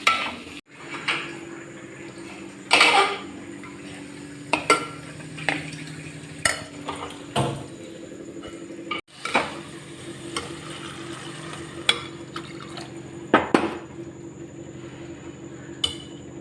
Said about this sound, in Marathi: तांदूळ आणि डाळ त्याला मिक्स करायचं.